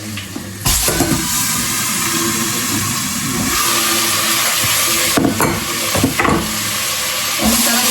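Onion, potato, peas, sweet corn, carrot, cabbage and capsicum stir-frying in a pan for vaghareli khichdi, a loud steady sizzle close by, broken by a few sharp stirring clatters.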